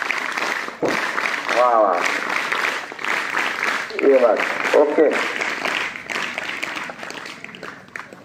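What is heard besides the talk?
applause at a school award ceremony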